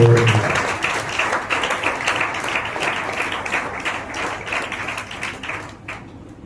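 Audience applause at a night fasting prayer meeting, steady dense clapping sustained for several seconds before thinning out near the end.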